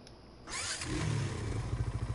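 A tractor engine in a farming video game cranks and catches, then settles into a loud, rhythmic, chugging idle that pulses steadily, with no voices.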